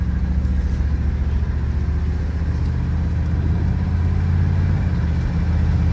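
A 1989 Chevy K1500 pickup with a freshly swapped engine drives out on its first run, a steady, loud low engine drone and rumble holding throughout without any talk.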